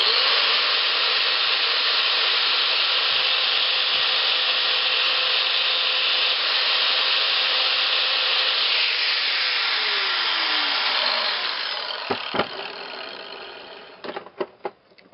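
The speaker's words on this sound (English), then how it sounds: "I'll take my grinder and I'm going to grind that tit off" A handheld grinder works steadily on the pan of a #3 or #4 offset coyote trap, a loud continuous metal-grinding whine that winds down near the end, followed by a few sharp knocks and clatters.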